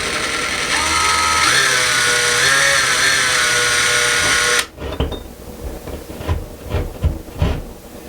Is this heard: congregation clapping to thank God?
no